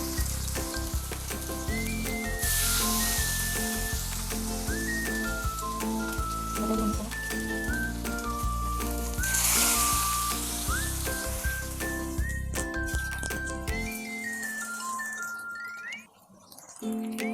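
Pomfret fish sizzles steadily in hot oil, a loud continuous frying hiss with faint whistling tones over it, which drops away near the end.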